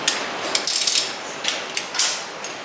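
Ratcheting torque wrench tightening lug nuts on a Honda Talon X side-by-side wheel fitted with spacers, a series of sharp metallic clicks and bursts close by, irregular and alone without talk.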